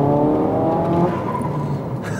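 A modified Alfa Romeo Giulietta's engine revving under acceleration, heard loud and close from inside the cabin as a continuous droning growl that eases off slightly toward the end.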